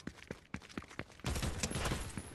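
Rapid bursts of gunfire in the Fortnite video game, sharp cracks in quick succession that turn into a denser, louder volley midway, without speech.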